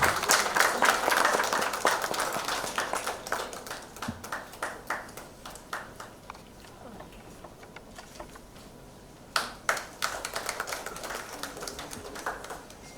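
A round of applause from the audience at a real estate industry podium event, clapping strongest in the first seconds and thinning to scattered claps, then a second burst near the end.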